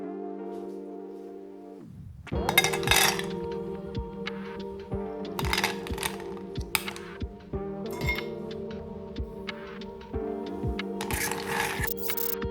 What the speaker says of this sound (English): Top the mug with ice.